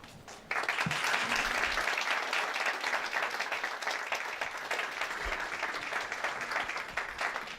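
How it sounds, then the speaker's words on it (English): Sustained audience applause fills a school winter show hall, a dense steady wash of many hands clapping that starts abruptly and continues loud and unbroken, slowly easing. "thank them through your applause"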